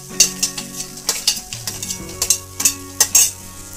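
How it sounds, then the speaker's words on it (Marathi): Peanuts roast with browned potato pieces in a pan for Maharashtrian poha, made without onion or garlic: a steady sizzle broken by rhythmic, close scraping stir strokes about every half second, with no voices. "आता बटाट्याला लाल कलर आलेला आहे, त्याच्यातच आपण शेंगदाणे टाकू,"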